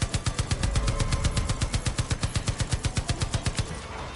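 A mounted machine gun in Far Cry 5 fires one long, loud, continuous automatic burst of evenly spaced rapid shots that fade slightly at the end, with no talking.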